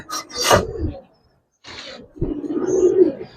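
Giribaz pigeons of silver and chila colouring give a couple of rough, raspy bursts up close, fall silent briefly, then settle into a low, sustained cooing that swells toward the end.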